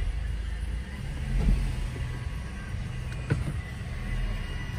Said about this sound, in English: the engine runs real nice, no check engine lights on.